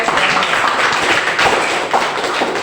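A classroom audience gives a short burst of steady applause at the end of a group presentation, dense clapping that fills the whole moment with no speech.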